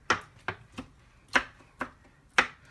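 A knife chops through jalapeño peppers on a cutting board in six sharp, separate strikes spaced about half a second apart, close and crisp with no talking.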